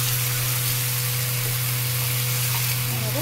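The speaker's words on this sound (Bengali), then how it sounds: "এবারে জল দিয়ে দেবো যাতে মশলাটা না পুড়ে যায়" Water hits hot masala of cumin and coriander powder frying in a pan for dhokar dalna, giving a loud, close, steady sizzling hiss that lasts the whole moment with no talking.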